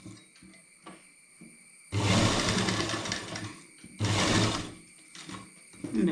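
A sewing machine stitches fabric for a rectangle wrap top, running in two loud sustained bursts with a steady mechanical whir, separated by quieter handling sounds, with no talking.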